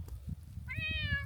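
A black outdoor cat in the snow gives one short, clear meow, faint and close, over quiet low background noise.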